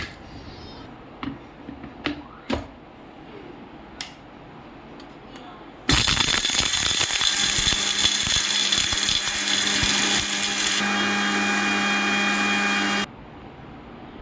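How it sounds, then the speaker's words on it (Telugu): An electric mixer grinder grinds fried dried red chillies, coriander seeds and salt for palak ulli karam, roaring loudly and steadily for about seven seconds after a few clinks and taps of the jar being set up. "ఫస్ట్ మనం ఎండుమిర్చి, ధనియాలు ఇవన్నీ ఫ్రై చేసుకున్నాం కదా, దాంతో తగినంత ఉప్పు వేసుకొని ఒకసారి గ్రైండ్ చేసుకోవాలి."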